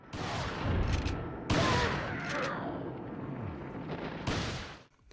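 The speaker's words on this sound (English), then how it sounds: "Popping headshots, shooting glinting objects, and slowing foes by shooting them in the leg never feels unintuitive." Gunfire from the PS2 video game Resident Evil 4 comes as several sharp shots spaced over a few seconds, mixed with game sound effects and background noise.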